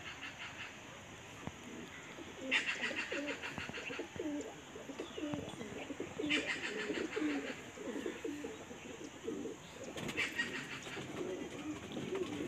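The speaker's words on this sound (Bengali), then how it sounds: "রানিং পায়রা। এটা ফিমেল" A female running pigeon with a red neck marking coos up close, its low rolling calls repeating in bursts every few seconds, with a few faint chirps from other birds behind.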